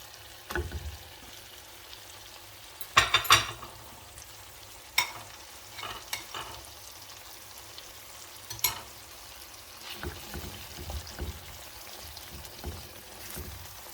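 Tomato paste and Arabic harissa cooking in a frying pan for a Tunisian sauce: soft, steady sizzling with scattered clicks and stirring scrapes, a louder clatter near the start, no talk.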